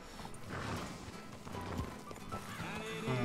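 Horse whinnying and clip-clopping hooves in a western video game, the neigh rising clearly over a steady bed of game ambience and faint background voices.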